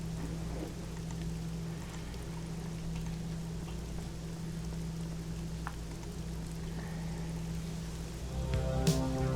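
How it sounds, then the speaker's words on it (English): Steady rain in the horror video game Nightmare Frames, a soft, constant hiss with low droning ambience, faint throughout and swelling slightly near the end, with no talk. "I'm loving the sound of the rain, I'll tell you what."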